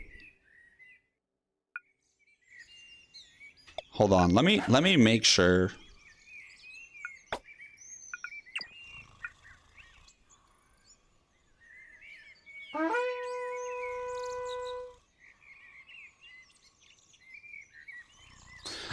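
Birdsong serves as in-game ambience in a real-time strategy tower defense game: scattered chirps and tweets, with bursts of louder game sounds, including a sustained tonal chime, and brief talk partway through.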